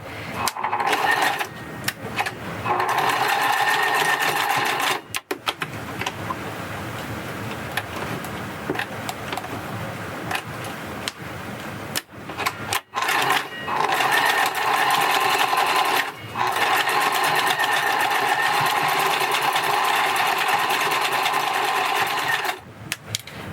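A sewing machine stitches a hair weft for clip-in extensions, loud rapid mechanical whirring in long bursts broken by short pauses as it goes back and forth.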